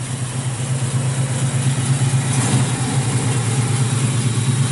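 A 1968 Chevrolet Camaro with a 350 V8, ceramic coated headers and 2.5 inch Flowmaster exhaust idles close by, a steady deep burbling rumble with a slight swell midway and no talk.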